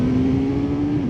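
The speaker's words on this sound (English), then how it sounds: "What a bonkers motorbike!" A motorbike engine holds a loud, close, steady revving drone with a sustained tone that dips slightly and climbs again at the end, with no voices.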